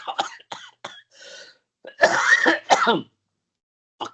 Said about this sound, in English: He's coughing and spluttering all over the place.